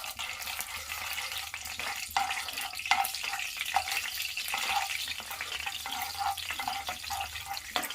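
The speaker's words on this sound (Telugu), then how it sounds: "ఇలా కొద్దిగా ఫ్రై చేసుకుంటూ ఉండాలి, మాడకన్నా." Mustard seeds, chana dal and urad dal fry in oil for vegetable upma, giving a steady close crackling sizzle with faint stirring and occasional pops throughout.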